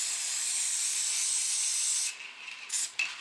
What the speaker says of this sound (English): make sure with the spray adhesive you get it all in there